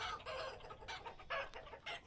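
A Vintage Story rooster in a hen house crows and clucks in several short bright bursts, close and moderately loud, with no talking.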